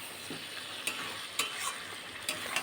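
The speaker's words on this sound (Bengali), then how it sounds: "বেগুন দিয়ে আবার একটু ভালো করে কষে নেব।" Eggplant pieces being fried and stirred with spices in a pan alongside potatoes, a steady close sizzle broken by a few sharp scrapes of a spoon against the pan.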